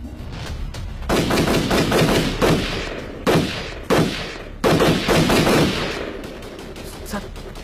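Bursts of gunfire crack out in several loud volleys with short gaps between them, some rapid and automatic, set in a military strike scene.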